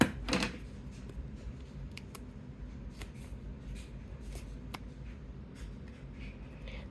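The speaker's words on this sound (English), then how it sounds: "So we're going to get in there with our scissors." Scissors trimming small film slides and recycled envelopes for a junk journal craft, heard as quiet, scattered snips and paper rustles close by, with a slightly louder cluster of cuts near the start.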